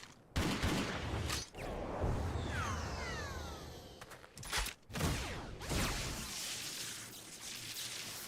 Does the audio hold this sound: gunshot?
yes